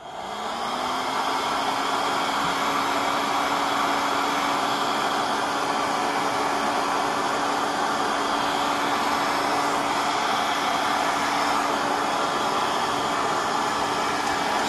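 Heat gun blowing on heat shrink tubing over copper speaker cable, a loud continuous blowing roar with a steady motor hum that starts up and holds, close and without talk.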